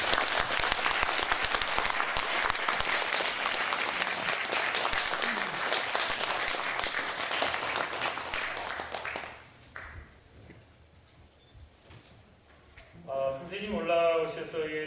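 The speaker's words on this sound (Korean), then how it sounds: "여러분 지금 무대로 올라오시는데 큰 박수로 환영해 주시고요." An audience claps loudly to welcome an elderly painter onto the stage at a year-end charity evening, dense applause that fades out before a voice starts speaking near the end.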